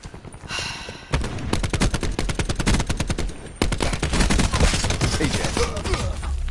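Video game automatic gunfire, long rapid rhythmic bursts of shots, loud and close, broken by a short pause before another sustained volley.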